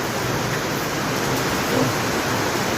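Heavy rain during a typhoon in Iloilo City, Philippines: a dense, loud, steady roar of downpour, constant and hiss-like throughout with no pauses.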